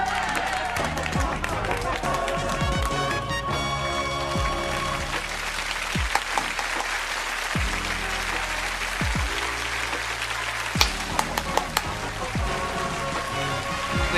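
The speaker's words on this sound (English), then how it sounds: "They clap for a while, don't they?" A sitcom studio audience claps steadily for Mind Your Language, a dense rain-like wash of applause lasting many seconds, with a few sharper thuds and some overlapping talk.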